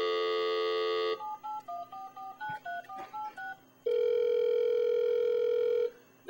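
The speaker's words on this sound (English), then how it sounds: "No, it's a dial tone." Telephone handset sounds: a steady dial tone, then a quick run of dialed touch-tone beeps, then another long steady tone, clear and close with no talking.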